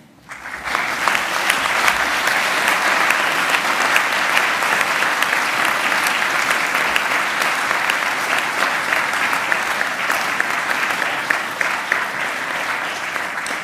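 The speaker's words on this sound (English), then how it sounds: "Please thank them by clapping." Graduates at a university graduation ceremony clapping for their families and friends, a loud, sustained wash of dense applause from a large seated hall that holds steady with no talk over it.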